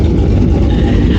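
Cammed Corvette Z06 engine at full throttle, a loud, dense low rumble that holds steady and close for the whole moment with no pause.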